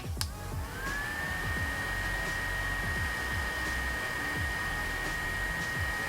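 A low, steady whirring hum with a faint high whine from a portable bladeless neck fan on its lowest speed starts after a brief click and runs evenly, quiet and close.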